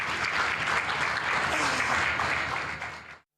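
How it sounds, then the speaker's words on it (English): A church congregation claps together, a dense steady burst of applause heard at moderate volume for about three seconds before cutting off abruptly. "Let's clap for Jesus Christ."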